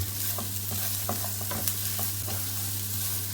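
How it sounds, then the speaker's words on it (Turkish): Rice for pilaf is sautéed in a pot, giving a steady close sizzle with a quick run of spoon scrapes and taps against the pot, and no talk over it. "Pilavımızı şöyle bir kavuruyoruz."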